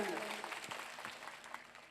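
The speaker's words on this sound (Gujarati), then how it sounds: "એમની માટે એકવાર જોરદાર તાળીઓના ગણગડાટ સાથે વધાવી લ્યો" An audience at a Koli community gathering claps in a faint, dense patter, with a voice speaking over the applause.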